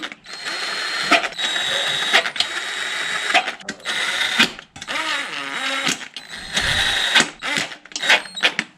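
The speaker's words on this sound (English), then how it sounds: "I'm going to just bottom them out with my impact because it's faster" An impact wrench drives in the valve cover bolts on a 2003-07 Honda Accord V6, firing in several short rattling bursts separated by brief pauses, close and fairly loud.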